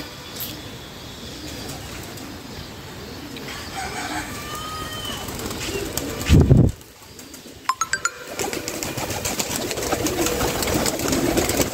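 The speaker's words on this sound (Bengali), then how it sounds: "দর্শক, সব কবুতরগুলো বাইরে আছে।" Pigeons coo at a pigeon farm in soft, repeated, overlapping calls over a steady outdoor background, with a brief loud rustle or bump partway through and a few sharp taps after it.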